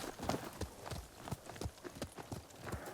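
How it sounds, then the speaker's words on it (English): Horse hooves galloping steadily in the video game Ghost of Tsushima, a quick rhythmic clip-clop of repeated beats at moderate volume with no talking. "Horse!"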